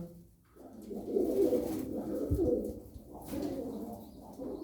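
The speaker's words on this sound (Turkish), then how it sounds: "Arkadaşlar elimde çıkartacağım 20 tane bir güvercin var." Tumbler pigeons coo in soft, low, rolling calls, with a couple of overlapping bursts close by and faint chirps and rustling around them.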